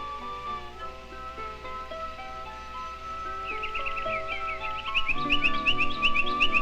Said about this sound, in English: A few wild birds remain in the north in the winter.